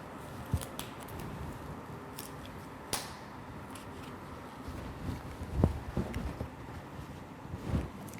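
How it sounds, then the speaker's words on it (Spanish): Scissors snip through excess elastic compression bandage near the knee, a few soft crisp cuts over a steady low hiss of room noise, close and fairly quiet. "Al llegar a la rodilla, cortamos material sobrante y fijamos."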